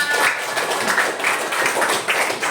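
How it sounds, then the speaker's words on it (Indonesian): Brief classroom applause from schoolchildren in an Indonesian primary class, a steady wash of fairly loud clapping lasting a couple of seconds, heard alone without talk. "Beri tepuk tangan"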